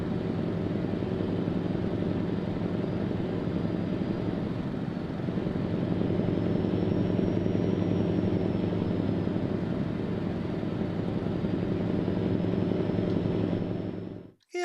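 An old Dennis Sabre fire engine runs at a steady, loud, droning idle for a long stretch, with a faint high whine rising and falling in the middle before the sound cuts off abruptly at the end.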